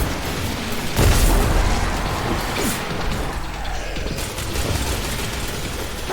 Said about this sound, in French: Je snipe